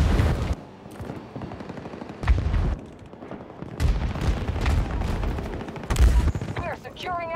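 Gunfire in the Battlefield video game: repeated heavy bursts of shots with deep booming impacts at roughly regular intervals over a constant din of battle, loud and close.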